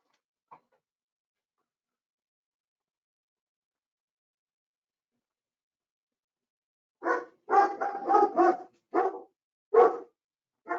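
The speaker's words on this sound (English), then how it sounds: "I think we're getting unmuted or someone's dog's barking." A dog barks in a rapid burst of loud, close barks after a long silence, with a brief faint sound near the start and no talking.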